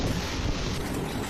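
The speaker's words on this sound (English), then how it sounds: "This massive windstorm blows with such intensity that it nearly breaks the trees completely." A strong windstorm roars in a continuous, loud broadband rush with heavy buffeting against the microphone, steady throughout with no voices.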